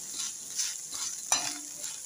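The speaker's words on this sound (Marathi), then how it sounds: "आपण आधी भेंडे चांगले भाजून घेऊया." Okra frying with kokum in a pan, a soft, close sizzle with scraping stirs and one sharp clink partway through, fairly quiet throughout.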